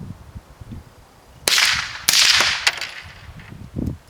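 Suppressed rifle shots outdoors, first from a .22 long rifle and then from a .223 rifle: several sharp, cracking reports with short ringing tails, fired a second or so apart, loud and close.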